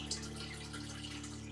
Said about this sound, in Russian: А вот слышно, как вода пошла.